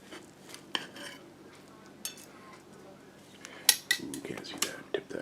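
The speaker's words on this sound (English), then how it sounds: "slice the beef" A knife works through corned beef on a board in a kitchen, giving scattered clicks and scraping taps against the surface, with a few sharper clinks near the end over quiet room tone.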